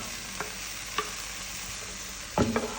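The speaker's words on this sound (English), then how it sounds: "I'm just going to add in my 2 onions, my pepper" Chopped onions and pepper drop into a hot pot for a green bean bredie and sizzle steadily up close, with a couple of light taps and a louder stirring scrape near the end.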